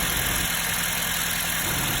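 A car with a blinking engine light and a suspected misfire idles just after starting, a steady, fairly quiet engine hum with a faint vibration, nearby and alone.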